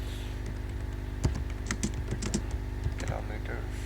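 Rapid, uneven keystrokes on a computer keyboard while entering MATLAB code, close and fairly crisp, with a steady low hum underneath.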